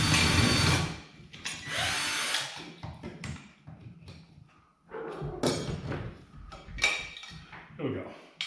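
A power drill whirs in short bursts while backing screws out of an old work-light, with clattering metal thumps and handling noise between runs and a voice speaking briefly.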